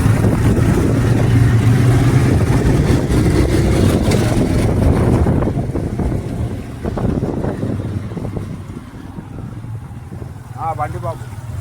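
A Royal Enfield motorcycle on a night ride gives a steady, loud low rumble buried in heavy wind buffeting, easing a little partway through, with muffled voices faintly mixed in.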